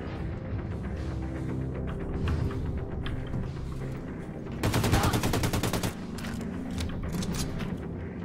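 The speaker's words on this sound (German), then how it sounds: "Die Ratten schießen." Enemy gunfire in Wolfenstein 2: The New Colossus crackles through a tense game soundscape, peaking in a dense rapid burst of automatic shots, with scattered single cracks before and after.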